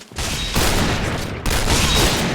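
Rapid automatic gunfire in the shooter game Point Blank, two dense unbroken bursts of shots, loud and close, with a brief gap between them and no voices.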